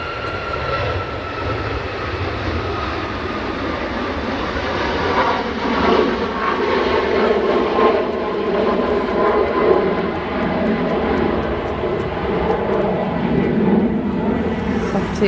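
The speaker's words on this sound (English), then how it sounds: "So we have this Ryanair 737 MAX, or the 8-200 as they like to call it." A Ryanair Boeing 737 MAX 8 departing Manchester Airport gives off a steady, loud jet engine roar that holds and swells slightly through the takeoff, with broad rumble and whine throughout.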